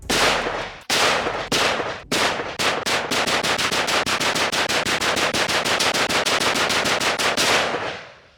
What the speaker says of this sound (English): We're gonna do rapid fire and see if it can handle all these rounds without having any problems.